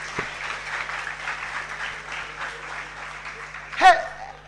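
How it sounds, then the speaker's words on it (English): Cadets clapping at a student welcome-week celebration, a sustained ripple of applause from a crowd at moderate distance, with a sharp burst of noise near the end. "Please, cadets, clap for them."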